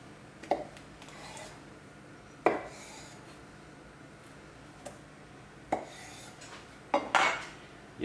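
A knife cuts exotic fruits in half on a board, giving sharp, sporadic knocks and taps about six times with soft rubbing between them. The sounds are close and quiet against a low room hum, and no voices are heard.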